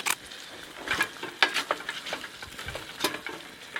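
Food being stirred in a camping pot outdoors, with uneven scraping and clinking strokes and soft bubbling, close and moderately loud in irregular bursts.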